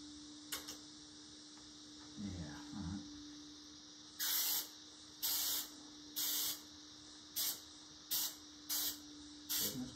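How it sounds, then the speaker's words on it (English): An aerosol adhesive spray can hisses in a series of short bursts, about eight quick sprays in a row, close and fairly loud, after a faint rattle, while fitting an under-bonnet hood insulation mat. "Spraying this."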